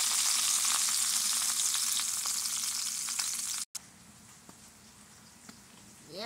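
Bacon frying in a pan, a dense hissing sizzle with scattered pops that cuts off abruptly and returns as a quieter, steady sizzle with occasional crackles.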